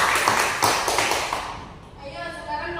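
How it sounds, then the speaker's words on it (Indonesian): A classroom group gives a short burst of applause, a dense patter of hands for about a second and a half that quickly fades out as a voice begins speaking. "Beri aplaus dulu untuk kelompok 2."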